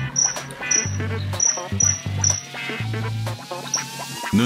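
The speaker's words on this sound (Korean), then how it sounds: "음악과 어울리는 귀뚜라미 소리를 들으며" Crickets chirp in short repeated pulses, mixed with low quacking duck-like tones and music-like notes in a steady rhythm.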